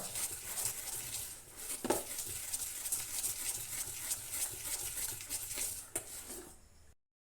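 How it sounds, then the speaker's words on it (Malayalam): Sambar ingredients being stirred in a pot, with soft scraping and patter from a spoon moving through the mixture, steady and close, with one sharper clink partway through. "ഇനി നല്ലപോലെ നമ്മൾ ഇളക്കി യോജിപ്പിക്കുകയാണ് നല്ലതുപോലെ ഇളക്കണം"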